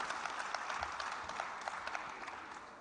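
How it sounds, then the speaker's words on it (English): An audience at a live ideas festival applauds: a brief, even wash of many hands clapping, moderately loud and continuous, tapering slightly at the end. "I think you deserve a round of applause."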